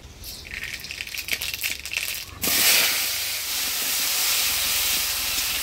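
Chili and mustard seeds hit hot oil for tempering, opening with crackling pops and then giving way to a loud, steady sizzling hiss that holds close and even to the end.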